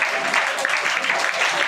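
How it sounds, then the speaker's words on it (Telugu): A church congregation clapping hands together in worship, a brief dense burst of many hands at steady rhythm, a voice partly mixed in. "2 హస్తాల పైకి చప్పట్లు కొడుతుంది"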